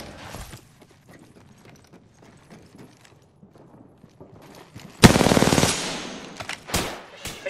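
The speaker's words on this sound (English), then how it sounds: "I'm taking shots." Gunfire in the battle royale shooter Apex Legends: quiet scattered shots and footstep-like taps at first, then a loud, close burst of sustained rapid fire, followed by a few more sharp shots.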